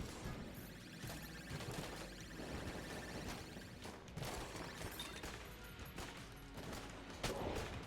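Gunshots in Enter the Gungeon ring out as a busy, quiet scatter of repeated shots and impacts layered over game background sound, with no clear gaps.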